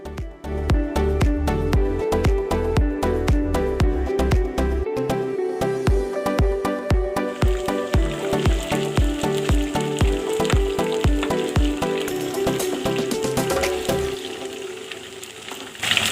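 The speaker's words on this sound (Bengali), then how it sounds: "এভাবে ডিপ ফ্রাই করে নিই।" Masala-coated chicken pieces deep-frying in hot oil give off a loud, dense, continuous sizzle and crackle that holds steady throughout, with no voices.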